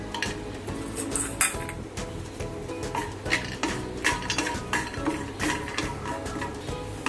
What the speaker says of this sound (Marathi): म्हणजे आपण हे शेंगदाणे थोडे भाजून घेऊया।